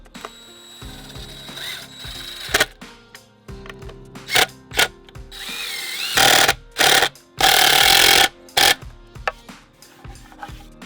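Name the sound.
screwing construction screws into speaker stand post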